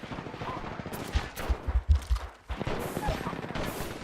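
Rapid bursts of gunfire in the battle royale game Apex Legends during a competitive match, sharp shots clustered in quick volleys over a continuous roar of game noise.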